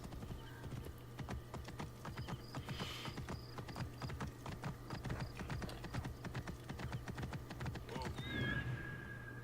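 Rapid, steady clip-clop of horse hooves trotting over ground in the video game Assassin's Creed: Origins, with a brief whinny near the end and faint background sounds throughout.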